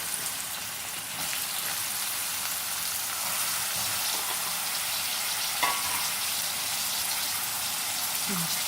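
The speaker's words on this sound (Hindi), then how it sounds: "तेल हमारा गरम हो गया है। इसमें हम डाल देंगे गलका।" Ridge gourd pieces frying in a spoonful of hot oil give a steady, even sizzle, close and constant, with a brief clink partway through and no voices.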